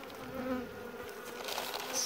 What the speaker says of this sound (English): we've got our honeys and our bees in the jar